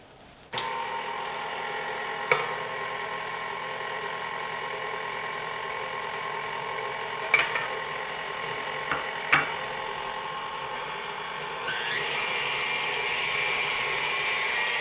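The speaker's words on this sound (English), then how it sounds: "there will be a bit of a scratching sound if you're using an electric mixer of this type" An electric mixer with a whisk beats heavy cream and sugar in a bowl, giving a steady, loud motor whir with a few sharp scratches and clicks against the bowl.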